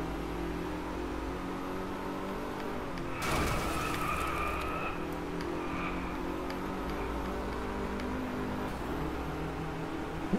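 A car in the racing video game Drive Club drives under a steady engine drone, and a sudden loud tire skid breaks out partway through, then eases back into continuous engine noise.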